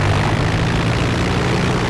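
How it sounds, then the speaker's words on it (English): Remote control airplane propeller in Garry's Mod, a steady, loud droning buzz with a constant low hum that holds unbroken and alone throughout. "I found the boy's remote control airplane."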